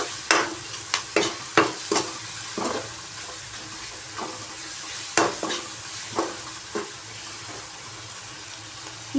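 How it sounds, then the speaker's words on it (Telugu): Potato curry with chili powder fries in a pan under a low hiss, broken by a series of sharp scraping strokes of a spoon, irregular and close, with no talking. "వేసుకొని 5 నిమిషాలు బాగా వేయించేద్దాం"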